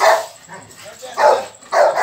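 Several dogs bark in a kennel, loud close bursts in a repeating rhythm with short yips between, while someone talks over them.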